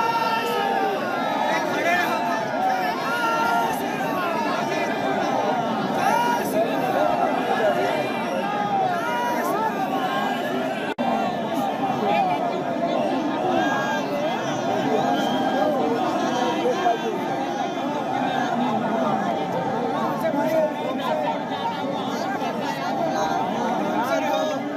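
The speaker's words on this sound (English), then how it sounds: "So a pretty big crowd of devotees," A huge crowd of devotees gathers outside the Ayodhya Ram Mandir, a dense, steady roar of chatter and shouting voices that stays loud and unbroken from start to finish.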